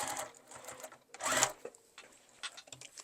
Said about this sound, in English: You're only sewing through the lining